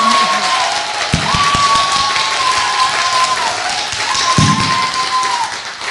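A studio audience on a Korean talk show breaks into applause, dense steady clapping for a political candidate with a few louder thumps, while a voice carries on faintly underneath.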